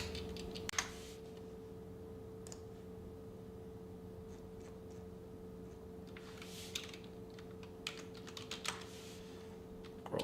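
Keys clatter on a computer keyboard as a command is entered, quiet bursts of typing spread across the stretch with a steady electrical hum underneath.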